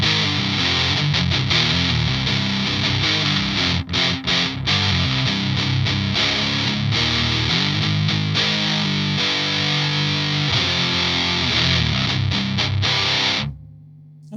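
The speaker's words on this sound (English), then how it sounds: "That's actually a decent sounding distortion." An electric guitar plays through an Earth Quaker Devices Palisades overdrive set for heavy distortion, in C tuning. Thick, saturated chords and riffs ring continuously, then cut off abruptly near the end.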